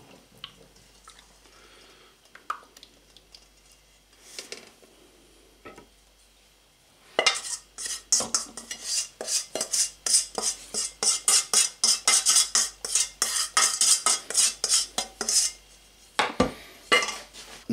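A spoon stirs and swirls a plum wine mixture in a container, with rapid clinking, scraping and sloshing that start up after a quiet stretch and go on loud and close in irregular bursts.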